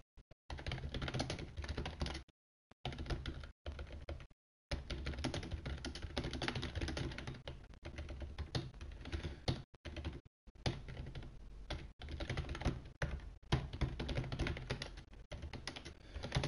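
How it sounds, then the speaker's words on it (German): Rapid typing on a computer keyboard up close, dense bursts of key clatter broken by several short pauses, heard alone without talk. "ihr hört mich wie immer tippen"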